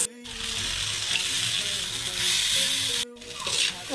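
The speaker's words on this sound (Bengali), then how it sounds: "রসুন, পেঁয়াজ, কাঁচামরিচ, টমেটো এগুলো কষাবো" Garlic, onion, green chili and tomato sizzle steadily in hot oil in a pan, a bright continuous hiss broken by two brief gaps, likely from stirring or lifting the pan, with no talk.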